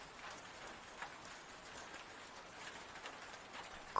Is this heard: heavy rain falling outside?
yes